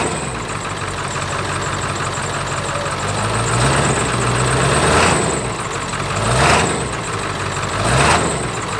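A shuttle bus engine being converted into a skoolie idles up close with a steady, rough rumble, swelling briefly in a few light revs before settling back, with no one talking.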